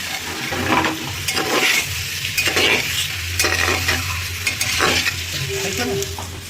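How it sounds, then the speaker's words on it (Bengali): Chicken pieces frying on a high gas flame in a pan for chicken stew, giving a steady close sizzle with repeated scraping stirs of a spatula throughout, no voices. "আমরা গ্যাসের ফ্লেমটাকে হাই করে দিলাম আর এবার এটাকে হাই ফ্লেমে কিন্তু ভেজে নিতে হবে পাঁচ থেকে দশ মিনিট"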